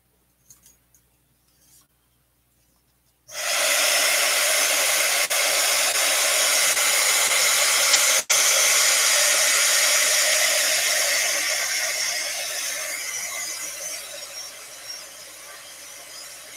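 A hair dryer starts abruptly and blows steadily and loudly for the rest of the clip, drying distress ink on a card for a Halloween card-making background, with no talking.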